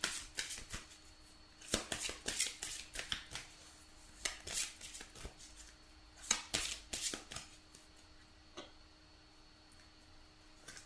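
Tarot cards being shuffled by hand, with repeated quick riffling and slapping bursts in irregular clusters. The sound is quiet and close, with brief pauses between shuffles and no speech.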